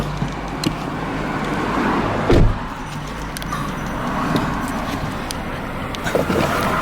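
Car interior on a road in Taiwan, with a steady low engine and road rumble throughout and a brief louder bump or thud near the middle; no talk.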